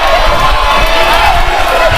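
Wrestling arena crowd chanting and cheering for Mighty during a handicap elimination tag match, a loud, continuous roar of voices with rhythmic chant swells.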